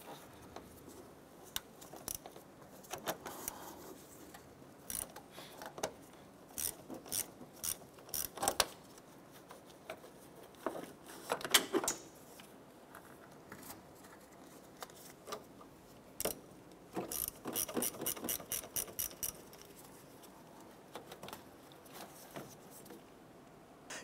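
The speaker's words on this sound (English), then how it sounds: "a 10 millimeter socket and ratchet, we're gonna go ahead and loosen and remove our battery terminals." A 10 mm socket on a ratchet loosens the battery terminals on a 2006–2013 Chevrolet, with bursts of quick, close metallic ratcheting clicks separated by short pauses.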